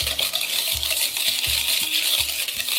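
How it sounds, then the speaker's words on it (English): A metal whisk stirs organic pure cane sugar in a bowl for a Southern pecan pie, giving steady rhythmic scraping with repeated bright metallic clinks against the bowl, close and moderately loud, with no talking. "And I'm just going to whisk this."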